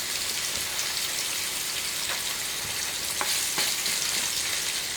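A panful of masala-coated nethallu fish sizzles steadily in hot oil, with a dense rain-like crackle and scattered louder spits throughout.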